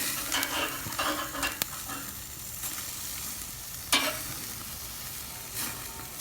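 Meat crackles and sizzles on a charcoal briquette barbecue grill, a steady close hiss with a few sharp pops and spatters, and no voices.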